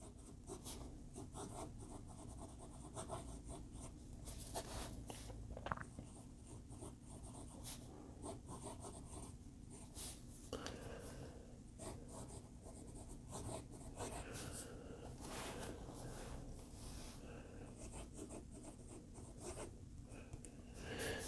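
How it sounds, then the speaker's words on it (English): A smooth Moonman Wancai fountain pen nib scratches softly across paper in short strokes and pauses, faint and close, with no talking. "let's do an actual writing sample. It's a very smooth nib."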